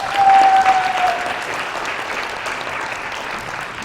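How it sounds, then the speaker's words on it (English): Audience applause honoring the organizers of the 2024 Osgoode Cup moot final round, a burst of dense clapping that peaks early then settles into steady, sustained clapping from a sizable room crowd. "And then a round of applause for our organizers."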